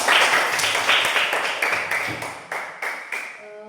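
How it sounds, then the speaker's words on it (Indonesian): Schoolchildren in an elementary school classroom clap their hands together in a fairly steady rhythm of loud, close claps that slowly fade toward the end. "Berikan tepuk tangan"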